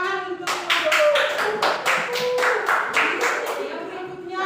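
A primary school class in a maths teaching simulation claps hands together in a fairly small, close group, roughly a dozen sharp rhythmic claps ringing out over about four seconds with a faint tonal hum beneath.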